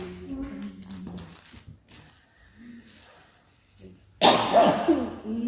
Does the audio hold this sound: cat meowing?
no